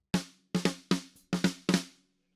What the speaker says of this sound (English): Got a mic on the top of the snare,